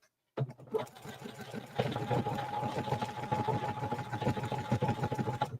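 A sewing machine stitches an appliqué stem onto a terry beach towel over stabilizer with a universal needle, running in a steady close mechanical whir that starts abruptly and continues for several seconds with no talking.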